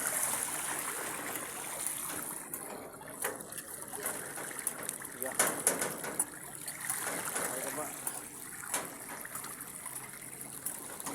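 Flood water flowing and trickling steadily, with people talking briefly in Filipino over the watery rush.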